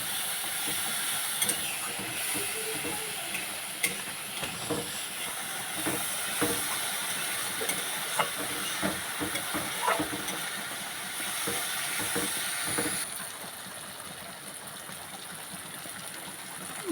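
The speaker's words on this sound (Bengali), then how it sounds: "দিয়ে অল্প পরিমাণে জল দেব, দিয়ে মশলাটা কষিয়ে নিতে হবে" Spice paste sautéing in a pan with a splash of water, a continuous hissing, steamy sizzle broken by scattered stirring clicks and scrapes, close by and fading slightly toward the end.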